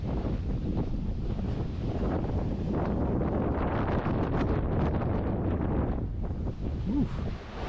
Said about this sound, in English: I don't remember it being this windy, but it's blowing pretty good right now.